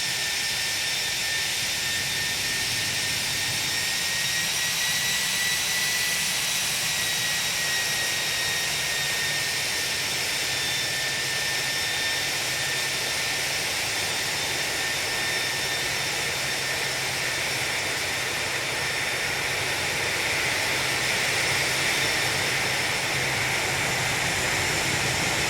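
Jet engines of an A321 airliner whine steadily while taxiing in a flight simulator game, a sustained high-pitched turbine hum over a broad roar, constant and unbroken throughout with no talk.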